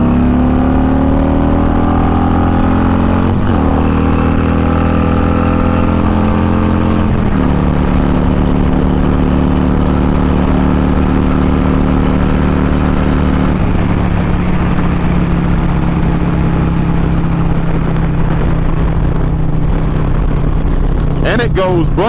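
A Harley-Davidson motorcycle engine on the highway, shifting down from fifth to fourth gear and pulling hard, a steady loud drone that drops in pitch at each shift with wind rush behind.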